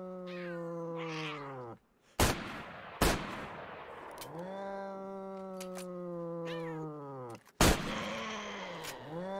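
Mutant cats in the video game STALKER let out long, loud, yowling meows, several drawn-out wails broken by sharp, sudden gunshots, with little talking.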